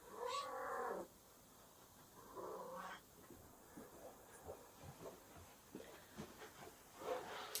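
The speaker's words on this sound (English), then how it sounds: "I'm gonna go and grab the cat." A cat lets out several drawn-out, plaintive meows, two close together and another near the end, with soft rustling and handling noise in between and no speech.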